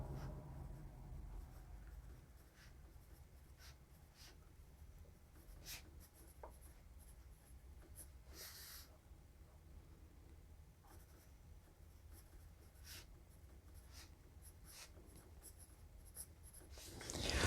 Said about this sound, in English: Feels a little bit like writing with a crayon, to be honest.